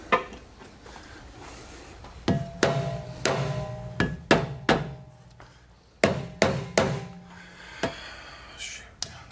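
A rubber mallet strikes the front suspension of an S550 Mustang, a dozen or so sharp, close thuds in irregular bursts with short pauses between them. Quiet workshop background fills the gaps.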